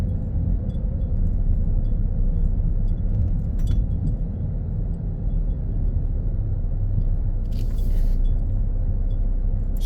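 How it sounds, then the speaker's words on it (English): A school bus passes on a town road, heard from inside a car on a morning drive, as a steady low engine and road rumble with no talk. "School bus."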